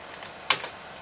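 A few keystrokes tapped on a retro beige PC's keyboard, one sharp clack followed by a softer one, close and isolated against faint background hiss.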